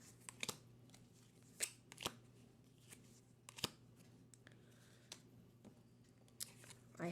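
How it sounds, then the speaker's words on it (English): Playing cards are drawn from a deck one at a time, giving quiet, sparse snaps and slides scattered across a hushed room with long gaps between them. "I have now drawn another ace, the Ace of Spades."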